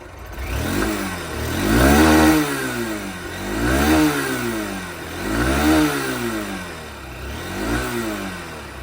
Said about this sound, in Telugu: ఒకసారి ఎగ్జాస్ట్ నోట్ అయితే వినండి